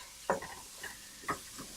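Cilantro being stirred and lightly fried in a pan for South Indian thuvaiyal, a quiet sizzle with two distinct spoon scrapes about a second apart plus softer taps.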